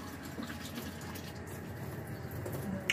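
Water poured into a stew pot for beef stew gives a steady, moderately quiet gushing fill lasting a few seconds, with no talking.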